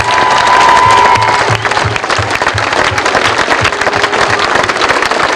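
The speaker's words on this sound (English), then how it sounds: "Give yourselves another round of applause" Football club supporters at Wembley give a loud, sustained round of applause with cheering, a dense roar of clapping and a whistle near the start.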